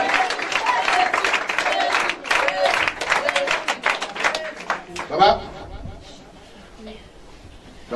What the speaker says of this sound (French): Est-ce qu'on peut l'acclamer plus fort?